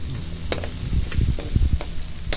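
Garlic and onions sizzle in a hot frying pan, a steady crackling hiss with a few louder spits and pops standing out over a continuous low frying bed.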